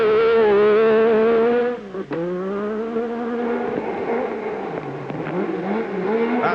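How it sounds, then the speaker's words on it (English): A powerful Cosworth-built V6 rally car engine snarls and revs, dropping sharply as it shifts, then climbing again with a raspy, throaty roar close by. "It is built by Cosworth. It is a V6 and it sounds absolutely fabulous."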